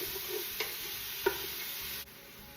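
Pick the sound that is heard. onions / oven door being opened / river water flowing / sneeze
onions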